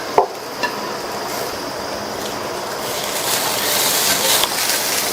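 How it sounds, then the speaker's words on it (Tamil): Cooked beans and carrots being stirred and sautéed in a pan for poriyal: a steady soft sizzle with scraping, and a few sharp clinks near the start. "பீன்ஸ் கேரட்டை சேர்த்துட்டு நல்லா மிக்ஸ் பண்ணி விட்டுருங்க."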